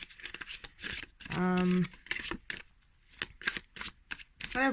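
New oracle cards riffle and flick in short bursts while a person talks over them, close and fairly quiet.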